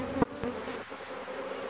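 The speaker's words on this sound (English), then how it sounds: "all the bees will be inside the hive." A swarm of honey bees drones steadily as it moves into a hive, a continuous close buzzing broken by a couple of sharp knocks near the start.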